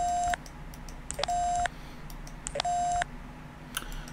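In The X-Files video game, a voicemail system sounds three sustained electronic beeps in a regular pattern, each with a short lead-in blip and broken by faint clicks, clear and close with no talk.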